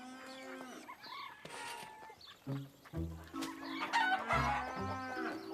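A lively mix of farmyard calls in a cartoon: hungry hens clucking and squawking in quick overlapping bursts, with a rooster-like crow and deeper animal sounds mixed in.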